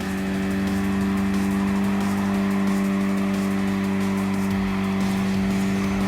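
A race car engine in Gran Turismo Sport holds a loud, steady high-revving drone with a strong sustained tone, close and continuous throughout, no talk.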